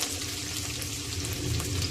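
Sliced medium onion frying in hot oil for an Agri-style dry ribbon fish curry, a steady dense sizzle with soft crackling, close and even throughout, with no talk.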